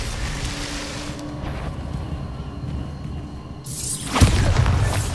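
Casting Bombarda in Hogwarts Legacy sets off a sudden blast, a deep boom with a bright crackling burst near the end, over a steady windy ambient rumble.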